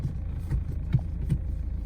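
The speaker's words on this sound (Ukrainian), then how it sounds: "Автомобіль завівся." A 2009 Kia Ceed 1.6 CRDI diesel engine idles with a steady low rumble and throb, close by, with a few brief soft knocks over the drone and no talking.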